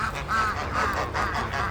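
Several ducks quack close by in quick, overlapping bursts.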